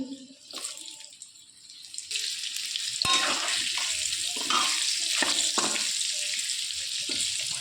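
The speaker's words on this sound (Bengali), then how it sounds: "এবার টুকরো করা আলু দিয়ে দেব, দিয়ে ভেজে নেব" Potato pieces frying in oil for a Bengali mutton dish, heard as a low hiss that swells into a steady, fuller sizzle partway through, with a few clatters and scrapes of stirring over it; no one talks.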